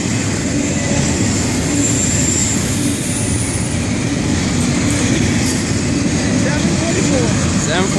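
A very long FEC freight train rolls past nearby with a loud, unbroken rumble and clatter of wagons, while someone talks over the noise.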